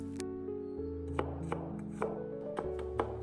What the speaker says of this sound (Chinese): 首先把大蒜切成薄片